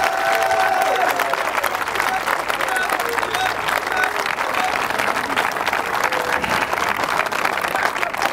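A church congregation applauding and cheering in acclamation, dense continuous clapping mixed with crowd voices, loud and sustained throughout.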